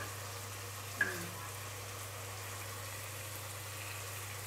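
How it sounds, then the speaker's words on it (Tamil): Mutton pieces with pepper and spices fry in a pan, a soft, steady sizzle with faint stirring scrapes and a single brief clink near the start, no voices. "இது எல்லாத்தையும் சேர்த்து நல்லா கிளறுங்க."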